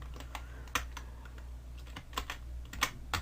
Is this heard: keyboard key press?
yes